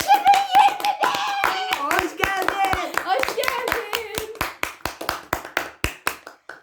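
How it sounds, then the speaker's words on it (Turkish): A small family group claps hands in celebration of the New Year 2021, with fast irregular clapping under talk and laughter at first, then a steadier rhythm of sharp claps that slows toward the end. "Alkış."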